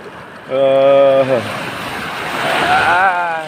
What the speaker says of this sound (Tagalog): Ayun yung alon, no.